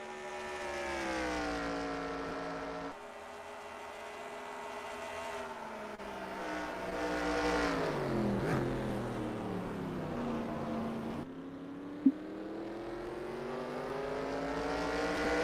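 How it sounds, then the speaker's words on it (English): Race car engines roar steadily during a late-lap race at Riverside, California, loud and sustained with rising and falling pitch as cars pass, and one sharp click partway through. "As the roar of the engine's still going here in California"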